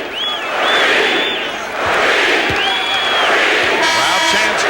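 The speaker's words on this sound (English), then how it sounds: "Crowd chants now." A basketball arena crowd chants during a 1989 Pistons–Lakers Game 4, a loud roaring mass of voices with rising whoops, continuous throughout and partly under a commentator's voice.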